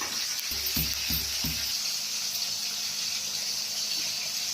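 Sambar flavoured with garlic and cumin simmering on the stove, a steady bubbling hiss with a few low thumping pops early on, then a continuous even boil, no talking.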